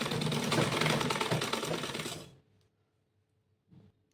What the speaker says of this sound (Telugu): ముందుగా నేనైతే లైనింగ్ స్టిచ్ చేసేసుకుంటున్నానండి